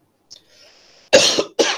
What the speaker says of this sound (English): I'm sorry about my cough.